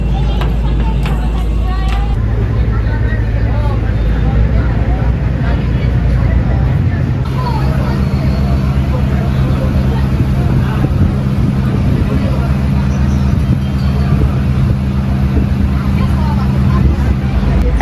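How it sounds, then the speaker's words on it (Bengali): A passenger ferry launch on the Hooghly river, running from Howrah to Bagbazar, pulls in at Sovabazar ghat. Its loud, steady low engine drone is heard close up, with wind rushing and people talking throughout. "এখন আমাদের লঞ্চ এসে গেছে শোভাবাজার ঘাটে"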